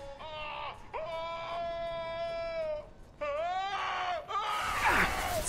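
A character in the Mass Effect 2 video game lets out long, wavering scream-like cries in two sustained bursts with a pitch glitch, loud and close, ending in a harsh noisy burst.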